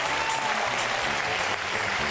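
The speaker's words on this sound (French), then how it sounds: "Et on peut l'applaudir vraiment très très fort." A studio audience on a French television game show breaks into a short, loud burst of dense applause for a contestant, filling the whole moment.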